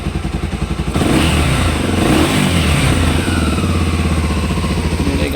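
Motorcycle engine catching and starting, then a steady loud close idle rising into a sustained rev with a clattering mechanical rumble, no voices.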